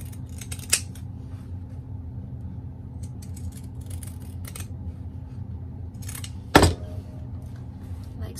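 Scissors snipping notches along the curved edge of stitched fabric for a bag, a few quiet sparse cuts over a low background hum, with one louder clipped snip near the end.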